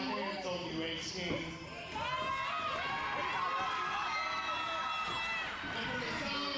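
A crowd at a live indoor wrestling show roars and cheers continuously, loud and sustained, with whistles and shouting voices threaded through the din.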